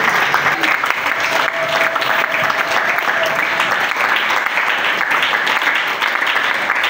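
A congregation at a morning prayer service applauds in a continuous, loud wash of clapping with crowd voices mixed in, holding steady throughout without breaks.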